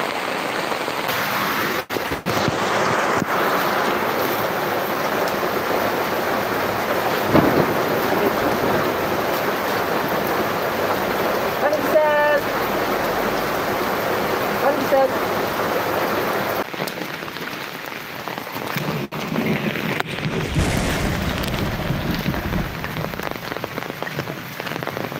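Heavy rain drums steadily and loudly on a surface throughout, a dense, unbroken hiss with a few brief low rumbles.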